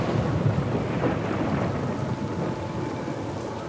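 A steady wash of heavy rain with low rolling thunder fills a horror film scene on a dark, cold night, loud and continuous with no voices.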